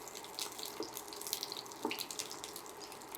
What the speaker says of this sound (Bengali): ধুয়েছিলাম তো মরিচগুলোর জন্য ছিটতেছে পানি